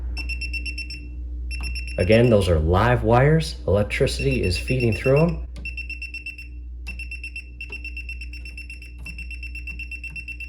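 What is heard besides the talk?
voltage tester beeping near live wires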